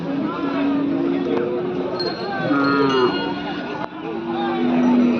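Cattle lowing at a crowded bull market, several drawn-out moos from nearby animals rising over a steady murmur of people talking in the background.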